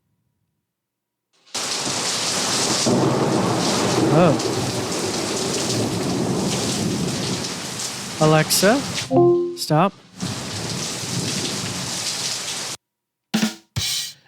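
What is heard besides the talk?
summer rain and thunder sound recording played by Alexa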